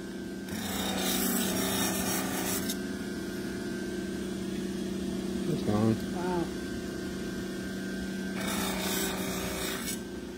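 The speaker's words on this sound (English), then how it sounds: "So what this is just a big Scotch-Brite wheel." A large Scotch-Brite wheel runs steadily with a continuous abrasive hum and rubbing hiss, with two louder stretches where metal is pressed against it and a brief tonal squeal in between.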